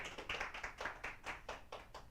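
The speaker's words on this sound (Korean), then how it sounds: "일단 박수" An audience at a Korean political lecture claps in a short, uneven burst of about ten distinct hand claps, fairly faint and heard alone without speech.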